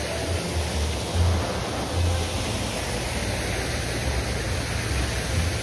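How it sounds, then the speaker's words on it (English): Waterfall at Ghost Town Cave in Six Flags Great Escape, a steady broadband rush of falling water with no breaks, fairly loud and close, with faint low rumbles underneath and no voices. "the waterfalls is working today at Ghost Town Cave"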